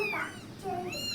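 Hungry cats meow insistently, their cries close and overlapping in a short burst.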